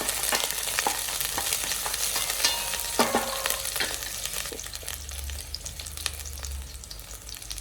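Onions frying in a pan give a continuous bright sizzle, close and steady, with occasional sharp clicks from a utensil against the pan.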